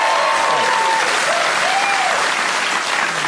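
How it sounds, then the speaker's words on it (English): A TV talk show's studio audience claps loudly and steadily, a thick, even roar of applause lasting a few seconds with faint vocal whoops drifting over it. "We also have a round of applause for Lawrence Mooney."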